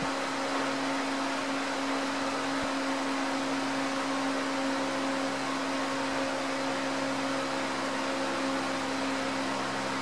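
Heat gun blowing steadily while shrinking tubing onto a fiber optic sight on a CZ P10C pistol, a constant whirring hum with a faint tone, close and unchanging for the whole stretch.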